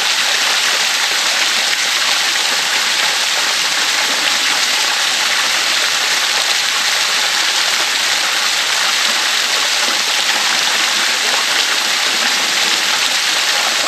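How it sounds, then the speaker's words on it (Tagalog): A waterfall on a rough backcountry route toward mines, rushing water roaring steadily and loudly throughout with no pauses. "Ayan, ang ganda ng falls, oh."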